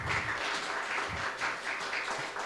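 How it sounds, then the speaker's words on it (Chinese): Audience applause at a national college debate tournament in a hall, a soft, sustained patter of many hands at a distance, fairly even throughout. "所以大家给自己一个掌声"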